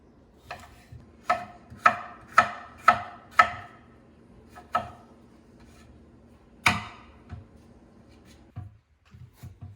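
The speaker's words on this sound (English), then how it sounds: "So we're going to cut these into thin strips." Knife cutting a vegetable into thin strips on a cutting board, a series of crisp, close chopping knocks in a quick run, then a few spaced strokes and softer handling sounds.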